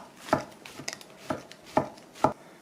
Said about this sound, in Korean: 그래갖고 채를 썰어주세요